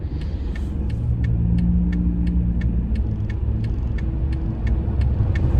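A car rolls past on a street with a steady, continuous engine rumble and tire noise, fairly close and loud, with a rhythmic ticking pulse running alongside it and no talking.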